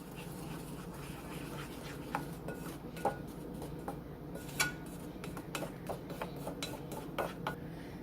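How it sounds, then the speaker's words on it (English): A spoon stirring glaze in a bowl for a mini mixed berry crescent braid, with faint repeated clinks and scrapes against the bowl in an uneven rhythm, quiet and close, with no talking. "I'm just gonna stir that with that to make a glaze"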